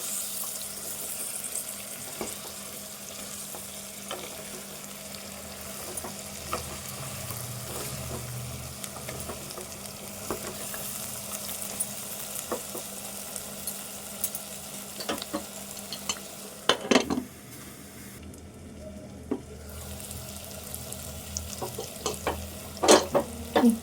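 Goat trotter curry with coriander leaves is stirred in a pressure cooker, Telangana style, with a continuous soft sizzle, repeated scraping strokes and a few sharper metallic clatters near the end.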